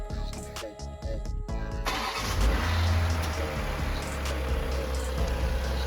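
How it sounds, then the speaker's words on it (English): INEOS car engine cranking briefly and catching, then settling into a steady idle with a performance tuning box installed, heard close with no talk. "start up the car and make sure that lights up properly."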